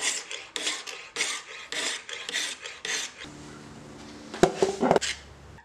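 A hand file rasps across a knife's bevels held in a jig, in a series of regular strokes, then a few quieter scrapes and sharper knocks near the end.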